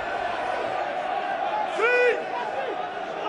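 Rugby union crowd at a Premiership match between Sharks and Worcester, a broad steady roar with a louder swell of whoops and shouts near the middle, heard from a distance under ongoing commentary.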